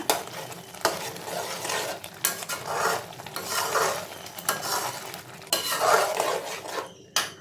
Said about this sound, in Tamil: சேர்த்துட்டு நல்லா கிளறிக்கோங்க